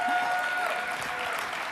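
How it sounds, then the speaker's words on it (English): Audience applause at a live leadership-team event, a dense, steady wash of clapping filling the short stretch at even loudness with a faint voice underneath. "A round of applause."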